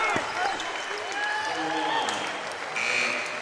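A crowd in a gym applauds players coming off the floor at a high school boys' basketball game, steady clapping with squeaking sneakers and a shrill whistle or buzzer-like tone threaded through, under a voice talking.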